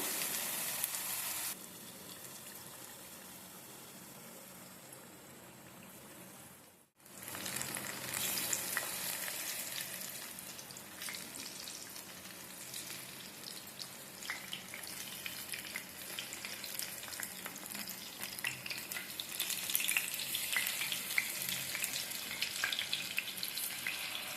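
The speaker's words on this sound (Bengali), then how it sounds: "একইভাবে আমি সবগুলো ভেজে নেবো" Bok flower fritters fry in hot oil with a constant close sizzle, which drops briefly and then swells back louder as more batter goes in. Light stirring scrapes sound under the sizzle, and no one speaks.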